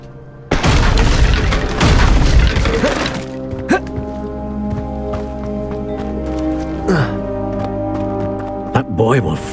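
A loud, broad explosive burst from the Confringo spell in Hogwarts Legacy lasts about three seconds, followed by sustained tonal game music and a few sharp thuds.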